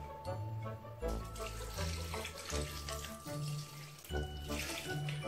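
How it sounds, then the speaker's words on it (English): Water poured into a pot sitting on a stove while homemade tomato ketchup is being made; a steady, fairly loud splashing and gurgling pour runs close-up throughout, with shifting pitch as the pot fills. "and we'll add some water"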